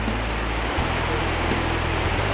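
Steady broadband rush of river water during a North Carolina elk crossing, continuous and fairly loud with faint intermittent splashes and no voices.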